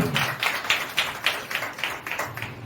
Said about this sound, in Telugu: చప్పట్లు కూడా దేవునికి.